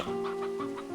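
A chicken in the video game Slime Rancher 2 clucks in a few quick soft pulses over a steady tonal game hum, faint and without talking.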